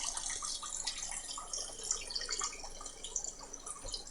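Water runs from a tap in a faint, steady trickle with soft splashing and drips as a container fills, quiet and close with no talk.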